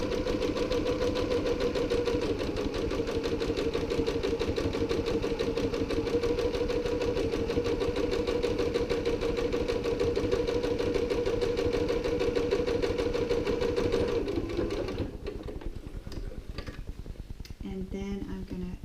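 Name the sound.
sewing machine stitching along the base of a tote bag pocket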